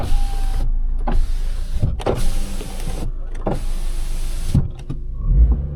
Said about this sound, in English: Windows working.